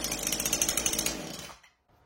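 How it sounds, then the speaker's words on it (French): A chainsaw runs loud and close with a rough, pulsing engine snarl, then cuts out abruptly near the end, leaving near silence. "Tu veux que je pose la tronçonneuse?"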